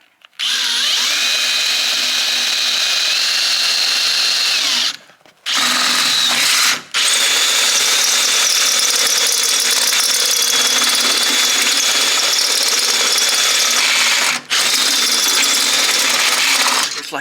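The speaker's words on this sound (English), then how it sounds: "I've about destroyed this drill." A power drill bores into the rusty body of an old GM truck, whining loudly and steadily from close by, stopping briefly twice and then running on without a break.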